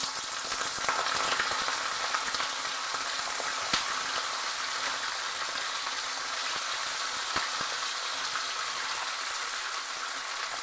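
Chopped ingredients fry in mustard oil in a kadai, giving a steady, dense sizzle that runs unbroken throughout, with a few faint clicks of stirring and no voices.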